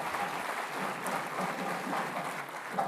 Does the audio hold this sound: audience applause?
yes